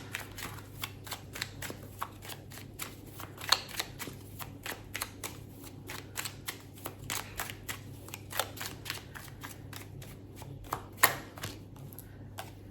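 Tarot cards being shuffled at close range, a steady run of soft, crisp riffling clicks with occasional sharper snaps, no voices over it.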